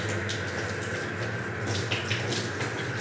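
A tap runs steadily in a house being filmed for a property walkthrough, the water splashing into a basin with a constant close rush and no pauses.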